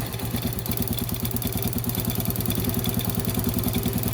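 A motorcycle engine idles after a new CDI unit and ignition have been fitted, putting out a rapid, steady, close-up putter with an even mechanical clatter that holds throughout with no voices.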